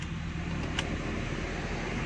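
A car engine idles steadily after being started, a low continuous hum filling the clip at moderate level, with one brief faint click partway through.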